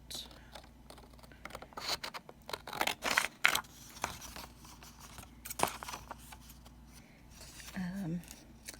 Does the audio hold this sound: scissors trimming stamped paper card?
yes